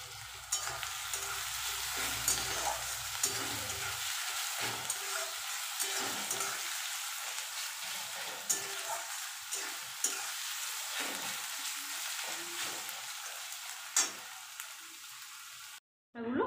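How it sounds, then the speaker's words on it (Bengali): Tomatoes hit browned onions frying in a pan, and a strong continuous sizzle follows, dotted with the scrape and clink of stirring, close up with no talking. "পেঁয়াজটা একটু লাল লাল করে ভেজে নিয়েছি। এবার আমি দিয়ে দেব টমেটো।"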